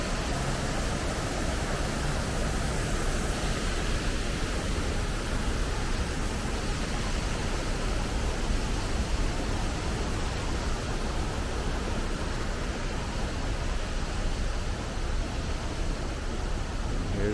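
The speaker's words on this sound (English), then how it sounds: "So here are the fountains" The water fountains at Caesars Palace in Las Vegas, a continuous dense rush and splash of falling water, steady and fairly loud outdoors.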